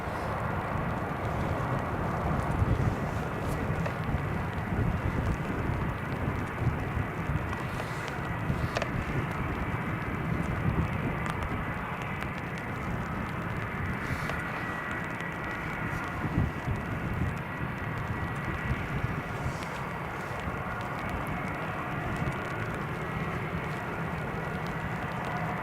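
A British Airways airliner at Newcastle International Airport in January, heard as a steady, broad jet engine roar that holds loud and fairly constant throughout, with some wind buffeting and no talking.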